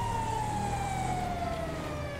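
A police car siren in the GTA 5 game wails steadily and loud throughout, its tone gliding slowly downward over a low engine and road rumble.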